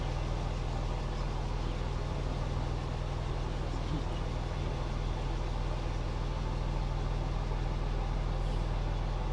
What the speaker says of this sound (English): I love the sound of this Cummins engine. It sounds just like a tractor trailer.